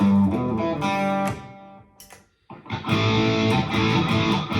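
Electric guitar played through a Mooer GE150 Plus multi-effects pedal on a clean setting with slight grit, sustained chords ringing, a brief pause near the middle, then fuller strummed chords close and loud, with no talking.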